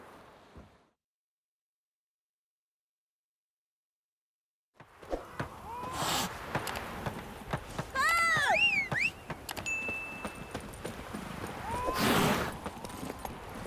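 Geralt's horse Roach in the video game Witcher 3 sets off after a stretch of near silence, its hoofbeats rising under outdoor ambience with brief birdsong chirps and a few louder swells.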